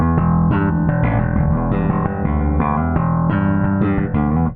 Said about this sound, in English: Now I'm going to use some of the slapping and popping techniques